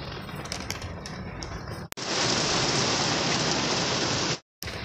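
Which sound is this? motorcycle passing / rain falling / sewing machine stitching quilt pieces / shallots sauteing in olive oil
rain falling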